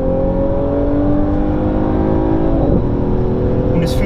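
A chiptuned Mercedes-AMG GT 43 engine pulls hard at full throttle, a steady loud drone with rising pitch as it accelerates, heard from inside the cabin.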